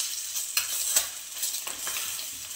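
Boiled eggs frying in masala for dhaba-style egg masala in a pan, a steady hissing sizzle with a few scraping stirs and soft taps, close up and without talk.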